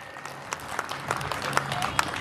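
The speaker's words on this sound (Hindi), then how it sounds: "एक बार जोरदार तालियां हो जाएं।" Scattered applause from a crowd at a village Hindu community gathering on Republic Day, fairly faint and uneven, with individual claps popping out over a low background murmur.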